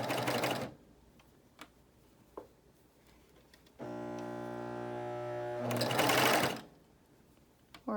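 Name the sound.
BabyLock Euphoria coverstitch machine sewing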